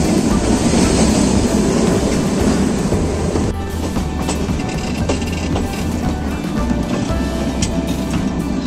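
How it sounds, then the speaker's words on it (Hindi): The Kalka Shimla toy train runs along its mountain route, heard from on board as a loud, continuous rumble with steady rhythmic wheel clatter and occasional sharper clicks, no talking. "नीचे सड़क ऊपर जो है अपनी टॉय ट्रेन चल रही है"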